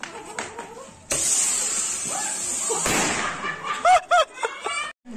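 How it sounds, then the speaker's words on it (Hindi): A Diwali firework rocket is lit in a village celebration, giving a sudden loud whooshing hiss that rushes off and fades, followed by sharp pops, while people talk and laugh nearby. "रॉकेट जलाएगा जलाओ।"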